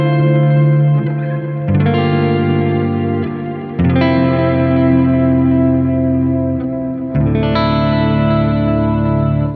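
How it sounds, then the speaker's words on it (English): Synth line run through a delay with heavy feedback and a reverb plugin, sustained chords swelling and sustaining, changing roughly every two seconds with a washy, echoing tail and no voices. "And now let's add our reverb to it."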